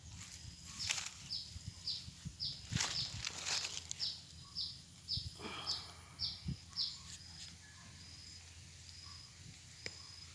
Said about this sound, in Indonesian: ada suara burung perenjak tuh